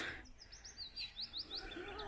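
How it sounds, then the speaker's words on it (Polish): Small birds sing in a series of thin, rising chirps and whistles. The song is faint and distant over a steady outdoor background. "ptaszki pięknie śpiewają"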